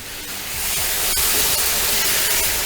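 Stir-fry sauce thickened with cornstarch poured into a hot pan of vegetables, a sudden loud sizzling hiss that swells and holds steady, close and bright.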